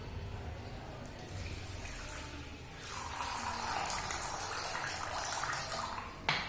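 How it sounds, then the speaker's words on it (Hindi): Water pours from a tap into a small bowl, a soft running splash that grows louder and fuller partway through, with a brief knock at the end. "इसमें डाल देते हैं थोड़ा सा पानी"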